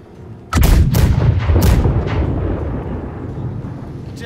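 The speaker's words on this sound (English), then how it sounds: "right side cannons, fire." Ship cannons in the naval game Blackwake fire a broadside as a loud, close ripple of three heavy booms in quick succession, followed by a rumbling, fading roar that lingers to the end.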